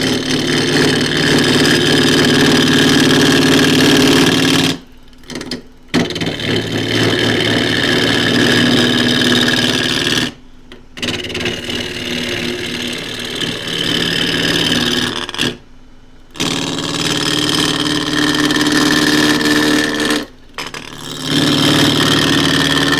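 A wood lathe spins a green elm crossgrain blank at about 1260 rpm, giving a steady droning motor hum with a faint whine, interrupted several times by short pauses, close and fairly loud with no talking.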